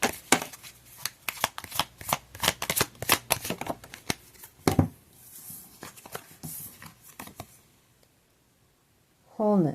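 Egyptian Gods Oracle cards being shuffled by hand, a fast run of crisp riffling slaps and flicks close by, thinning out into quieter handling before a voice starts speaking at the end.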